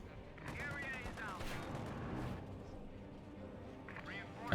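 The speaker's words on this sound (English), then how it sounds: "Sneaking a few shots with his 50 cal" Distant bursts of .50 cal machine gun fire in Company of Heroes 2 crackle faintly beneath game effects and a talking commentator.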